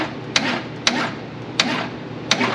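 Four evenly spaced sharp metallic taps from a small hammer working a stuck part free on a 1956 GMC 150 pickup, ringing over a low background hum.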